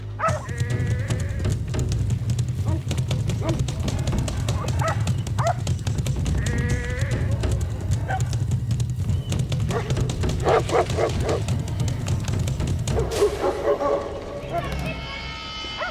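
Livestock guardian dogs bark repeatedly at a bear amid bleating sheep and a noisy flock, the barks sharp and close, with a voice talking over the commotion.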